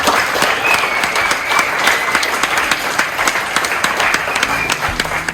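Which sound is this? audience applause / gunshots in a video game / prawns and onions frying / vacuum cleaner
audience applause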